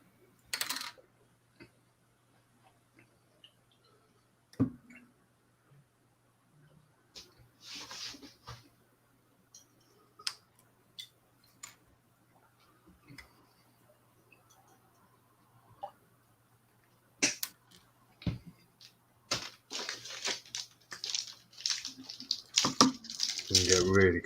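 Plastic model kit parts snipped from the frame with cutters, sharp isolated clicks and snaps spaced apart in a quiet room, growing busier toward the end with handling noise.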